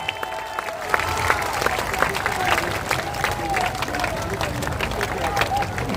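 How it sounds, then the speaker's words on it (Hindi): Crowd applause at a political party's founding launch event, steady clapping with cheering and chatter in a large gathering, continuous and moderately loud throughout. "जोरदार ताली बजाइए।"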